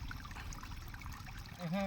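Water gushing out of a pipe in a stream or fishing setting, a steady trickling flow heard faintly and alone, swelling slightly at the end.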